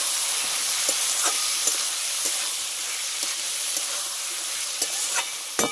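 Loyta fish pieces sauté in hot spiced oil with a loud, even hiss and crackle, punctuated by regular light taps of a utensil stirring.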